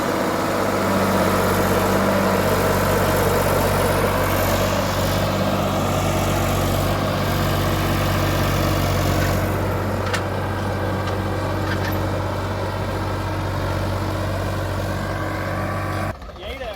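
Preet 4549 tractor pulling a tiller deep through a field, a loud steady diesel drone with strong low harmonic hum throughout, cutting off abruptly near the end.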